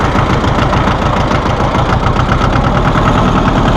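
A 1984 John Deere 650 compact tractor engine idles steadily and loudly up close, a constant rhythmic chugging with no talk over it.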